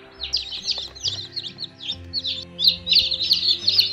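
Gauloise dorée chicks and hens, an old French breed, peep and cluck in a dense, continuous stream of high chirps with soft lower clucks underneath, close to the microphone.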